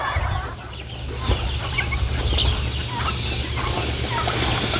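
A turkey gobbles on a farm where chickens are being caught, with repeated loud gobbles and clucking from fowl close by over steady outdoor background noise.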